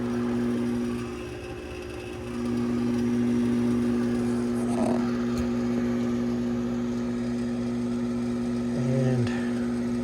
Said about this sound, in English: The flue motor is running, or the induced draft,